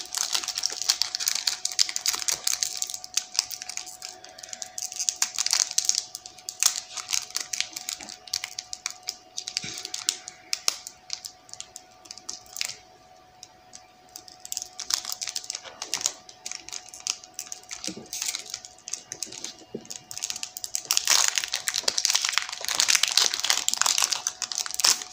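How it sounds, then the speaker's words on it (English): A Pokemon card booster pack being torn open and handled, with close, continuous crinkling and crackling of the foil wrapper that eases off midway and then grows loud again, with no talk. "And open the next pack"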